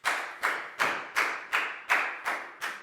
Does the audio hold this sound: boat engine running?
no